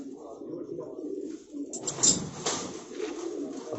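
Racing pigeon cooing in repeated throaty rolls, fairly close and clear, with a rougher burst midway.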